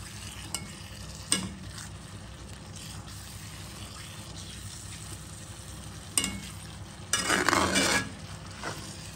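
A spoon stirs fish curry sauce sizzling in a pan, with a soft constant fry, occasional scraping strokes and a louder burst of stirring near the end.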